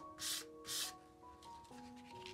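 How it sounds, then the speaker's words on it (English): Balsa wood sanded by hand with 1200-grit sandpaper in gentle, even strokes: two distinct soft rasps, then fainter scuffs, quiet over a low tonal hum. "Sand the entire surface of the balsa wood using gentle,"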